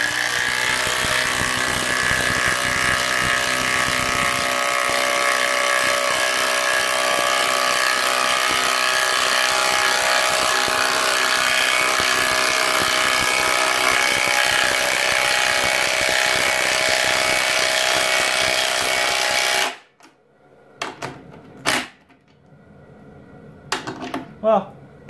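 A Makita power tool runs for about twenty seconds, a loud steady mechanical whir with ratcheting buzz that cuts off sharply, followed by a few clunks and a voice.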